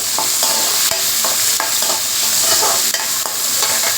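Loud, continuous sizzling of onions and curry leaves sautéing in a hot pan, with repeated scraping clicks of a utensil stirring through them.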